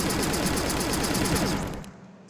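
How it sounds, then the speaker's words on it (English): Rapid automatic gunfire from a prototype mobile shooter video game, a loud continuous burst of repeated synthetic shots that stops abruptly near the end, leaving only a faint tail. "so I'm just going to shoot."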